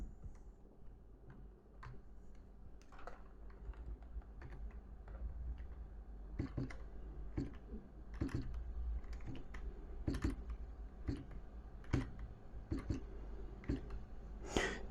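Someone types on a computer keyboard, close and fairly quiet, giving a steady stream of crisp clicking keystrokes that grows denser and louder toward the end, with no voices.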